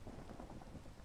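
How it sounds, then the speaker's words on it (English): Steady rain from a storm pours down in a Minecraft tornado survival game, a dense, even hiss with a soft low rumble underneath, filling the whole moment without pause. "We got rain curtains starting to come down."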